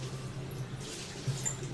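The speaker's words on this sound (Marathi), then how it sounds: "आता मिस्टर आहेत ना चिकन धुवून घेत आहेत" Tap water runs steadily into a sink while raw chicken is washed in a home kitchen, a soft close trickle with a faint low hum beneath.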